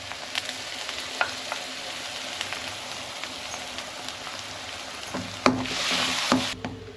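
Tomato purée sautéing in a pan for paneer gravy makes a steady, close frying hiss with occasional light ticks, swelling into a louder splattering sizzle near the end.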